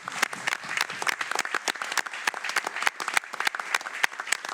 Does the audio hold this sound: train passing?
no